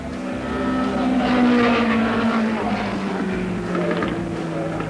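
A 1970 Ferrari sports racing car pulls into the pits during the BOAC 1000 endurance race, its loud engine note swelling, then sliding steadily downward as it slows, with track noise around it.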